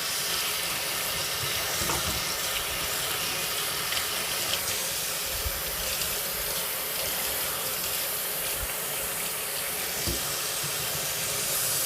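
Cold water pours steadily over sweet potatoes, a continuous broadband splashing hiss like a running tap into a pot, loud and close with no talk.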